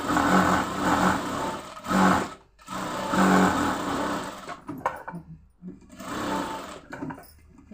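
A sewing machine stitches a puffed sleeve together with its lining. It whirs in several bursts of a few seconds each, separated by brief pauses, close up with no talking.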